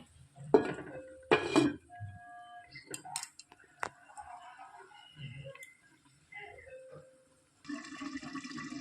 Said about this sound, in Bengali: এবার একটা ঢাকনি দিয়ে আমি ঢেকে দেবো।